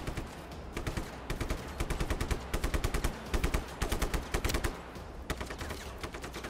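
Enemies open fire in Just Cause 3 with bursts of automatic gunfire, quick rattling volleys in uneven clusters that sound moderately distant and fairly quiet, with short gaps between bursts.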